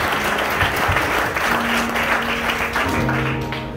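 A church congregation applauds with loud, steady, sustained clapping from many hands, as a voice briefly sounds through it.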